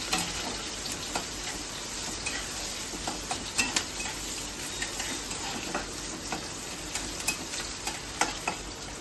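Chopped onions frying in hot mustard-style oil with five-spice and dried red chilli, for a prawn, pumpkin-leaf and pumpkin chochori: a steady close sizzle with scattered stirring clicks of a spatula against the pan, no talking.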